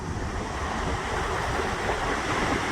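Niagara Falls water pours and churns over a big boulder, a steady, loud, broadband roar of rushing whitewater that fills the whole stretch without a break and with no voices.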